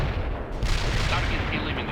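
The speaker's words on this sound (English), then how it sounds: "Fire! Launch those grenades!" Dense battlefield gunfire and grenade launcher blasts in the World in Conflict Soviet Assault real-time strategy game, a continuous loud roar of shots and booms with game voices shouting commands over it.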